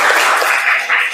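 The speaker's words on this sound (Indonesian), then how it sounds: "Tepuk tangan." Students applaud in a high school classroom during a teaching session, a brief, loud, dense burst of clapping lasting about a second, close and without speech.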